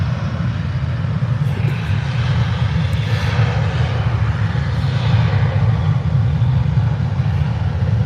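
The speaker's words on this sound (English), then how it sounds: "And it's up. It's beautiful A321." A Ryanair Airbus A321 airliner takes off at Birmingham Airport, its engines giving a loud, steady jet roar with a deep rumbling low end that holds constant for the whole stretch, with no talking.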